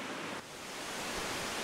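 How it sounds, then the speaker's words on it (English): A waterfall gives off a steady, broad roar of rushing water, constant and fairly close, with no voices over it. "Finally found some waterfalls."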